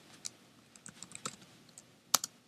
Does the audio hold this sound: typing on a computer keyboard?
yes